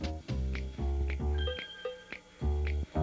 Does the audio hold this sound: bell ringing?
yes